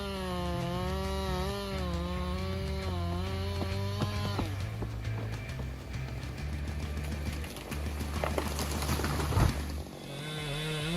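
A Husqvarna 592 XP fuel-powered chainsaw with a 90 cm bar cuts into a huge tree, its engine revving high and steady at first, then bogging into a rougher, grinding bite as the chain sinks into the wood.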